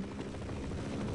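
Helicopter in the Half-Life video game, a steady close rotor drone with rapid low chopping throughout, loud and unbroken for the whole short stretch.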